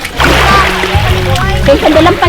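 Water gushes and splashes loudly and forcefully from a hand pump, a continuous close splattering torrent, with voices briefly audible underneath.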